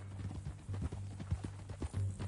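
Horse hooves clip-clop at a steady walking pace in Red Dead Redemption 2, a run of close, regular knocks over a low rumbling bed, with no speech during the clip.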